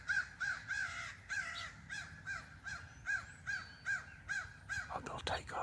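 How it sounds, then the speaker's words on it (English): Crows caw repeatedly near backyard bird feeders, about a dozen loud, harsh calls in a steady rhythm, ending with a burst of fluttering and scuffling. "Oh, they'll take off if these crows keep doing this."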